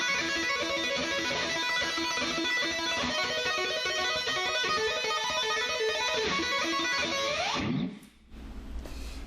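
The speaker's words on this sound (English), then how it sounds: "I use two-handed technique to play the same notes." An electric guitar played with two-handed tapping, a fast stream of bright, even notes that ends in a rising slide, then a short low noise after it cuts off.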